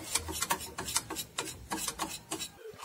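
Batter for sweet fried pua pitha (teler pitha) whisked briskly in a bowl, a rapid scraping, rasping rhythm of repeated strokes, fairly close and steady, with no talk over it.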